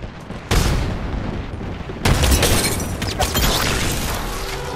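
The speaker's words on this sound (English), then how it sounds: "Stand back, knuckle clusters firing." Knuckle cluster explosives going off in a shooter video game, two heavy blasts followed by a dense, loud barrage of rapid detonations and crackling gunfire.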